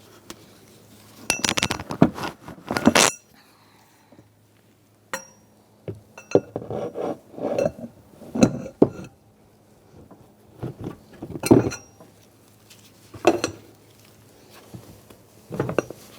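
A wrench works loose the radiator fan clutch bolts on a 1978-1987 Chevrolet El Camino, giving sharp metallic clinks and ratcheting clicks in scattered bursts separated by quiet gaps.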